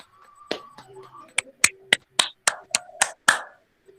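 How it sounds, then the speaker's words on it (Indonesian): Students clapping their hands during an online class, about nine sharp, separate claps in an uneven sequence, with a faint voice briefly underneath at the start. "Kasih tepuk tangan untuk Mbak Dina ya."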